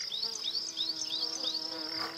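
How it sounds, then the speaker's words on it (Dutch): Bees and wasps buzzing at a picnic in a park, a close, continuous insect drone that rises and dips in pitch in quick repeated swoops, with no talk. "bijen en wispen."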